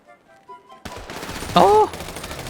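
Gunfire in GTA V running a Free Fire zombie mod: a sudden sharp shot after near silence opens a stretch of noisy in-game shooting, with a brief squealing cry rising over it.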